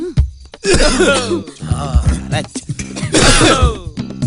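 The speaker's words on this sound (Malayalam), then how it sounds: "ചുമക്കാൻ മറക്കരുത്, ടൈമിംഗ് ആയിരിക്കണം." A series of forced coughs and throat-clearing bursts, loud and close, repeated in quick succession with brief gaps between them.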